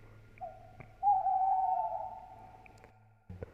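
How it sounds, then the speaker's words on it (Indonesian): An uncuing bird gives a long, eerie owl-like call, a single sustained hooting whistle that swells and fades, heard alone against a quiet night backdrop of low rustling. "diselingi kicauan burung uncuing yang membuat bulu kuduk berdiri"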